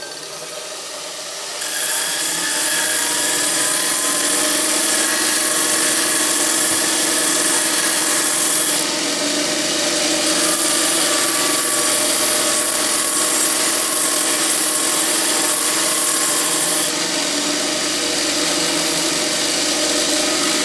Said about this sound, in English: so I'm going to grind a bit off the end